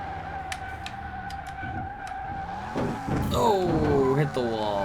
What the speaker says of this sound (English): I can't believe this thing's sliding out like that as a front-wheel drive car.